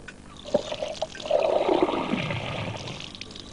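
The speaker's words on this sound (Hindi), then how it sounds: "चल चल पानी डाल।" Water poured in a steady gushing stream that swells, then slowly tapers to a trickle, close and fairly loud with no talk.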